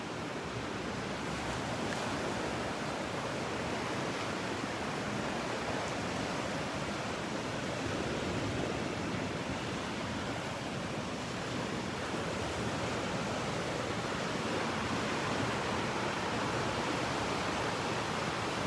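Surf rolling onto a beach in North Naples, Florida, a dense continuous wash of breaking waves with some wind buffeting, steady and fairly loud, no voices.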